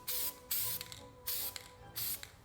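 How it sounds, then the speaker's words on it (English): An aerosol can of prep spray paint hisses in four short, loud bursts separated by brief pauses, close up, while painting a wheel. "Let's try the nozzle from the can of prep spray."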